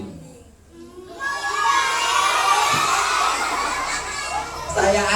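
A group of kindergarten children bleat together in imitation of a goat, a loud, sustained shouted chorus lasting a few seconds after a quieter start.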